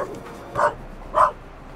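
A dog in the video game The Raven: Legacy of a Master Thief barks twice, two short, evenly spaced woofs of moderate loudness over a quiet background with no speech.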